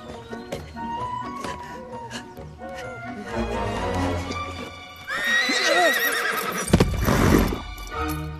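A horse whinnies loudly and shrilly, with rising and falling neighs over clopping hooves and scattered background noise.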